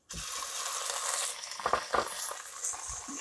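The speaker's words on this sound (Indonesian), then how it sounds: "Dari kita tumis dulu ya dagingnya nah ini udah agak setengah matang ya dagingnya" Beef sautéing in a pan for Korean kimchi soup gives a continuous bright sizzle with a few scraping stir sounds midway, close and fairly steady, no voices.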